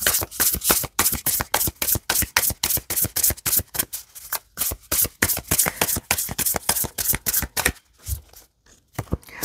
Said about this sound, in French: Je vais procéder au tirage.